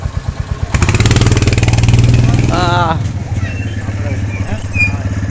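A motorcycle engine close by turns over and settles into a loud, steady idle, with a brief rev near the middle. People's voices can be heard faintly behind it.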